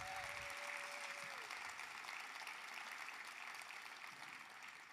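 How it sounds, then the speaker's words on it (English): Audience applause at a county government State of the County address, steady broadband clapping filling the room for the full stretch and slowly easing off toward the end, with no talk over it. "Can we give them a round of applause?"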